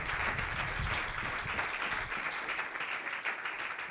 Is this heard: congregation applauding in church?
yes